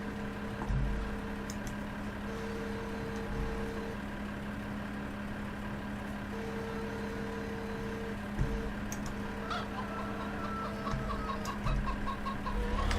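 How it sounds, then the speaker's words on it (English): Chickens clucking on a farm in the Farming Simulator 15 video game, repeated short clucks over a steady idling engine hum, no talk. "Noisy chicken."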